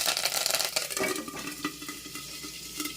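Thinly sliced onion and garlic frying in hot oil with mustard seeds and curry leaves for a brinjal dal tempering: a steady sizzle with a spoon scraping and clinking against the pan.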